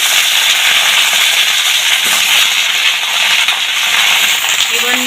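Green banana pieces drop into a hot pan and set off a loud, continuous close-up sizzle with faint clicks and clatters scattered through it.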